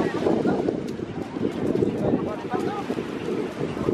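Steady wind buffets the microphone on a seaside promenade, a continuous low rumbling gust with faint surrounding crowd and sea ambience, close and fairly loud.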